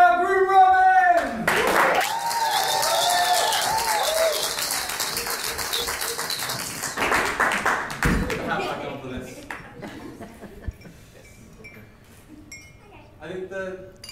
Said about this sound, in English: please give a huge cheer for our groom, Robin!